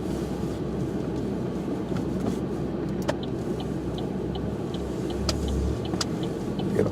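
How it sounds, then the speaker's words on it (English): A car engine idles in a steady, continuous low rumble, close and even, with a few faint higher ticks and clicks on top and no talking. "the car's been running for almost 2 hours"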